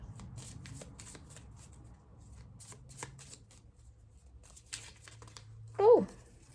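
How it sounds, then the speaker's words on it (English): Happiness oracle cards are shuffled by hand close up, a series of quick riffling, flicking bursts in an uneven rhythm, followed by a short burst of a voice at the end. "How about we pull one happiness card as an outcome?"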